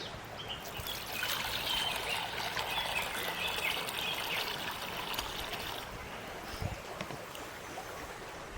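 Water trickles and pours steadily into a cooking pot for masala rice for several seconds, a soft continuous splashing that fades near the end.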